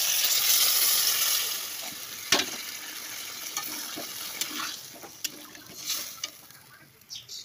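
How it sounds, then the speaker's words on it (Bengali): Boiled water being poured into a pan of Bengali egg curry as the spices fry, a steady sizzle and bubbling near at hand that eases off, with a few sharp clicks and clatters of the pan. "দেখো জল দিয়ে দিই, ফুটানো জল।"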